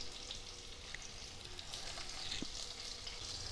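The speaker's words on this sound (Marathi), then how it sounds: "त्यानंतर कढीपत्ता टाकला. 2 मिरच्याचे तुकडे टाकले." Curry leaves and chilli pieces frying in hot oil for dal, a faint, even sizzle and crackle with one small knock, close but quiet.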